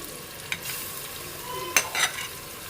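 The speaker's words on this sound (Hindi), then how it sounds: "अब चम्मच मुसलसल चलाते रहेंगे ताकि ये अच्छी तरह भुन जाए" Onions fry in a pot for a Sindhi spinach dish while a spoon keeps stirring them. A low, even sizzle is punctuated by a few sharp clinks and scrapes of the spoon against the pan.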